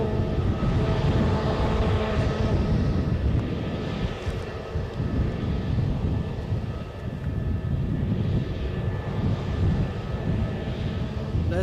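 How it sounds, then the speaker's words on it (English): A private jet at Edinburgh airport roars with a steady, loud, broad engine rumble and rushing wind noise that holds throughout with slight swells, no voices over it. "There's a private jet."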